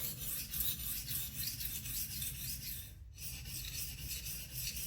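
A knife edge bevel is sharpened freehand with a steady, continuous rasping stroke against the stone, close and fairly quiet, with a brief pause near the end.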